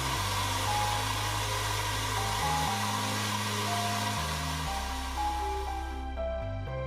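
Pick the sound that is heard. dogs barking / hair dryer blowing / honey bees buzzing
hair dryer blowing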